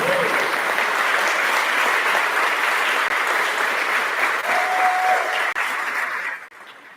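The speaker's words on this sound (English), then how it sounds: "Round of applause." Sustained applause from an audience at a school awards ceremony, steady and dense for several seconds before tapering off at the end.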